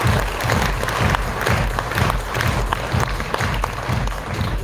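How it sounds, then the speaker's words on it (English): A crowd applauds at a luxury product-line unveiling, with dense, loud clapping sustained throughout and a few cheers mixed in. "Can I have a good round of applause for that?"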